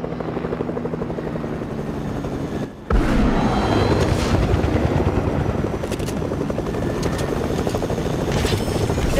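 Helicopter rotor and engine from the Fortnite video game, a loud, steady whirring drone running throughout with a brief dip early on and faint game effects underneath.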